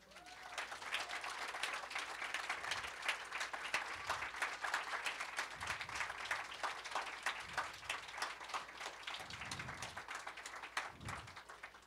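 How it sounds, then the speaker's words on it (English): An audience at a panel on television storytelling applauds as a producer is invited up, steady dense clapping that is quite faint and distant, with a few louder thumps and a little voice underneath. "You have to applaud at least until they get to the front."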